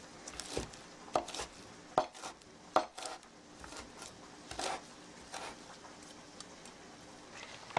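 A knife chops through a rolled-up bunch of basil on a cutting board, giving a series of irregular, fairly quiet taps and thuds that stay close and come without speech.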